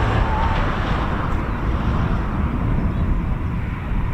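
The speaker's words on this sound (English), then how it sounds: "So that's the way the Typhoon rumbles." A Typhoon jet rumbles overhead during an RAF flypast, a loud, steady, broadband roar that holds without a break.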